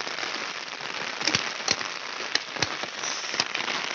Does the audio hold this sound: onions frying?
no